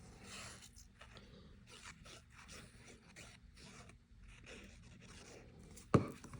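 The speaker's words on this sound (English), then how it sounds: "So first I'm going to glue down this gingham." Gingham paper glued down by hand for a Valentine mini card journal, a soft steady rubbing and scraping close by, low and continuous, ending in one sharp tap.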